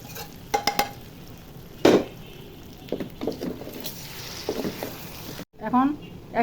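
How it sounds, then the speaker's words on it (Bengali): Rice and beef frying in a pot for beef biryani, stirred with a utensil: irregular scraping and clattering strokes with a soft sizzle underneath, close and moderately loud, with a brief pause near the end before stirring resumes. "চালগুলো ভালো মতো ভেজে নিব।"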